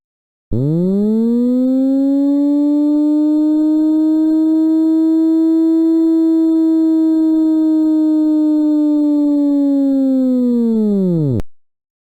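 A single steady synthesized bowed-bottle tone with a hollow, reedy timbre holds for about eleven seconds, starting and stopping abruptly, loud and alone.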